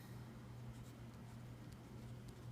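Chalk or marker strokes on a classroom board during a chemistry lesson, faint scratchy marks over a low steady hum, with no voice heard.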